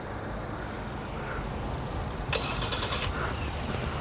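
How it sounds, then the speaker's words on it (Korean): A SsangYong Korando or Tivoli engine idles steadily at a distance after a remote start, a low continuous rumble, with a brief mechanical clunk partway through. "와 시동이 걸려 있어요"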